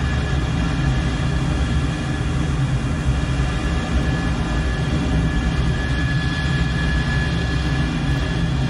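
An F-14 Tomcat jet engine roars steadily in afterburner in a flight simulator video game, a loud, unbroken broadband rumble that holds constant throughout.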